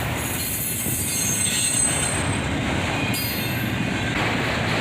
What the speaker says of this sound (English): And finally, the end of this Autorack train goes by us.